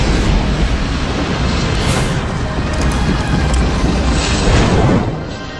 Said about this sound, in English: which was met by a massive explosion